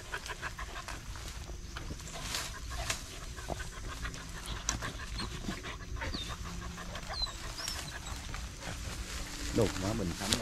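Hunting dogs pant rapidly and continuously in the outdoors during a hunt, close by, with background activity and people talking throughout.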